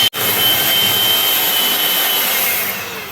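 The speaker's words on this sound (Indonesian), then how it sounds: "Mixer hanya sebentar saja." An electric hand mixer whirs loud and steady at close range, blending mashed banana into banana cake batter, then tapers off at the end.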